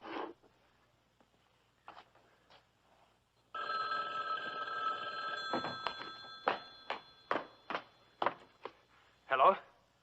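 Old-fashioned telephone bell in a 1960 TV thriller, ringing loudly in repeated short metallic bursts, preceded by a brief voice and a longer sustained ring.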